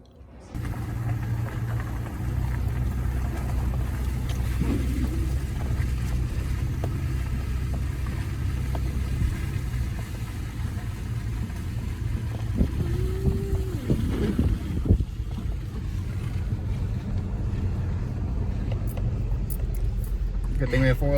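A four-wheel-drive vehicle climbs a mountain road on Lookout Mountain, with a steady, close engine and road rumble and wind buffeting the microphone throughout.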